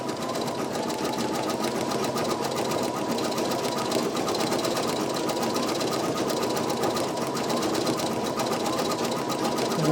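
A Brother embroidery machine, a PE900 or NQ1700E, runs steadily as it stitches a design, its fast needle chatter holding an even, continuous whir for the whole stretch.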